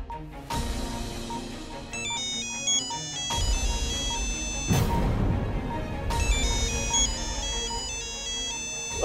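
A synthesized phone ringtone plays a repeating bright melody in loud bursts, pausing briefly between rings, with no voices.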